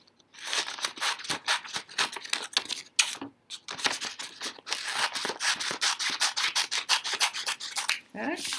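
Scissors cutting out a paper piece close up, a quick run of crisp, rhythmic snips and rasping slices with a couple of brief pauses, and no voices.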